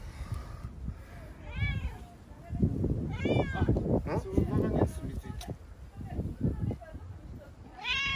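Several cat meows, rising and falling, come through over a person talking nearby, with a quieter mew near the end.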